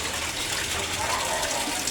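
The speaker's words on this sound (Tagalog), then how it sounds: "Ito ang filtration system ko, pinaglas ko para magandang tingnan" A glass-encased koi pond filtration system runs, a steady close wash of gushing water that stays even and unbroken from start to finish.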